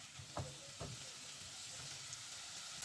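Food frying in a pan in a home kitchen in Kampala, a steady close sizzle with two short scraping stirs early on, no talk.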